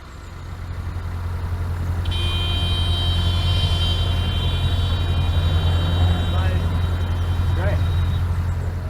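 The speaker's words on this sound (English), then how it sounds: "The roads are starting to get busy out there now," Busy evening road traffic rumbles past a London canal, with a steady low engine drone and passing cars, then a long tonal horn or whine and brief bird chirps, all close and loud.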